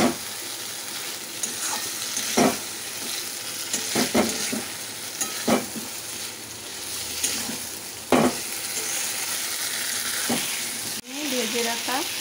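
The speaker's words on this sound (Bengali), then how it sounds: "এখন আমি চিকেনটা দিয়ে দেব।" Chicken pieces tossed into fried, oil-separated spice paste in a pan give a steady close sizzle, with repeated stirring scrapes throughout and a brief sharp hiss near the end.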